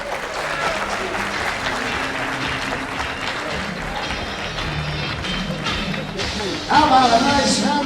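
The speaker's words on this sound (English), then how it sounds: "How about a nice round of applause for the very lovely Marco?" Heavyweight boxing crowd applauding the ring girl between rounds, a steady wash of clapping and arena murmur that swells louder near the end, with voices mixed in.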